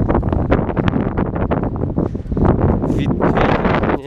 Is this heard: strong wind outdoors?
yes